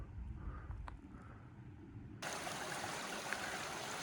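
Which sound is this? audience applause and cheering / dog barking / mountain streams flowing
mountain streams flowing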